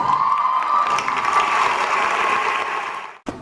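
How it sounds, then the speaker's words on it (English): A pageant audience at the Miss Africa WA State contest breaks into loud, sustained applause and cheering, with whoops and a bright shrill tone held over the clapping before it cuts off abruptly near the end. "A round of applause."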